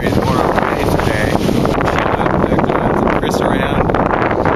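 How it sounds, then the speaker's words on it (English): Strong wind at Morro Bay buffets the microphone with a constant loud low rumble and rushing gusts, while a voice speaks faintly underneath. "It's just so windy"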